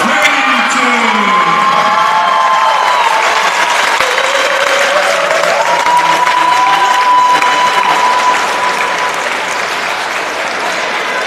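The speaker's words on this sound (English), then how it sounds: "A big round of applause for Ella Pennington" Sustained loud applause fills a swimming championship venue for a rookie-of-the-meet swimmer, dense clapping from a large crowd with scattered whoops and cheers, with a voice over the loudspeaker faintly under it.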